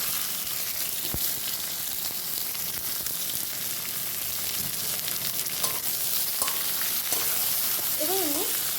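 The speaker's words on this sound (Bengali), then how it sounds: "এবার আমি পেঁয়াজটাকে ভেজে নেবো" Chopped onions frying in oil with nigella seeds and torn bay leaves, giving a dense, steady sizzle that runs throughout, with a few light utensil taps and faint background sounds.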